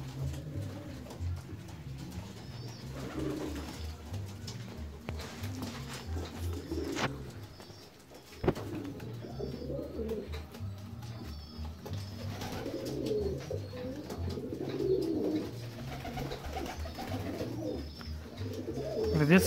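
Fancy ornamental pigeons coo steadily in low, rolling calls, with bird chirps and splashing activity around them as the birds bathe; the cooing continues throughout at close range.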